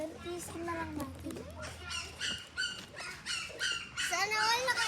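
Family dog barking and whimpering outdoors among a group, yelps and whines heard over excited children's voices and people talking throughout.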